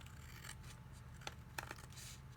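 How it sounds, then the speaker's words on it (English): A good pair of scissors trims glued cards, giving a few short, crisp snips over a low steady background hum, with no voices. "if you get a good pair of scissors, these do trim up neatly"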